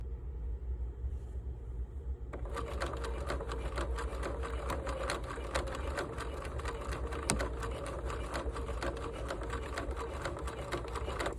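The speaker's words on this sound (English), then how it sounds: "I'm gonna sew this up, and then I will work on the bottom part." A sewing machine stitching a thrifted shirt dress, starting after a brief quiet moment and then running steadily with a rapid mechanical whir and close, even ticking.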